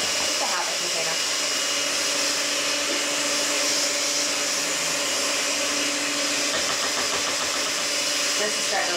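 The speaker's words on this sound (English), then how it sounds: "Always try to time this so I can pull the batter beaters out a little bit while they're still going" Electric hand mixer beaters whir steadily through chocolate cheesecake batter made with sour cream, a loud continuous motor drone lasting the whole stretch with a voice speaking over it.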